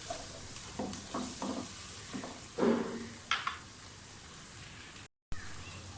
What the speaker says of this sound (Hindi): टमाटर को भूनते हुए मुझे 5 मिनट हो गए